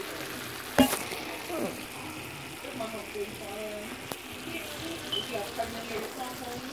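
Shrimp frying and bubbling in a pan as the liquid boils down, a steady close sizzle with a sharp clatter near the start and light stirring noises throughout.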